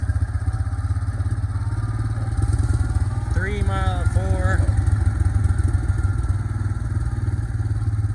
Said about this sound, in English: I'll go ahead and show you a 4-low engine braking test.